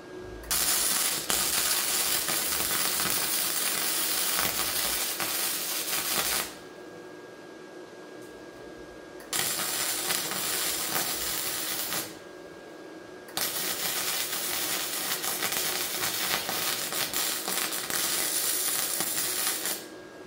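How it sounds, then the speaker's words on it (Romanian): A nut is welded onto a car body in loud, crackling hissing bursts, three long runs separated by quieter pauses, close up with no talking. "Acum îi sudăm piulița asta și prindem de ea"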